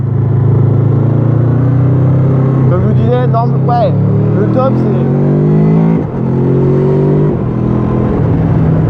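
Honda VFR800X Crossrunner motorcycle engine running steadily while riding, a constant low drone with wind noise throughout, heard beneath someone talking close to the microphone.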